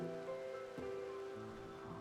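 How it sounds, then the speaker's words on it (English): Steady rain falls in the video game RimWorld, a soft continuous patter mixed with a low background tone, quiet and without speech. "It has been raining for quite a while now."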